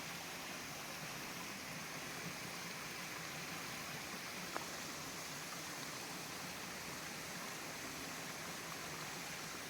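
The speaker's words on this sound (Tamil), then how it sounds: "இந்த கூழாங்கலுக்கு கீழே அந்த அருவி வந்து சின்னதாக மேலே ஓடிட்டு இருக்கிறது" A small waterfall stream runs beneath and over pebbles at a hidden waterfall in Kerala, giving a steady, even rush of flowing water that continues without a break and with no talk over it.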